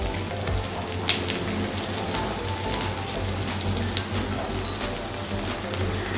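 Sesame seeds fry in a pan with a steady, dense crackling sizzle, heard close and continuous, with a few sharper pops.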